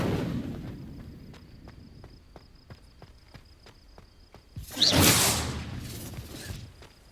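An Incendio fire spell cast in Hogwarts Legacy bursts into a loud roaring whoosh of flame, after a stretch of quiet rhythmic footsteps echoing through a cave.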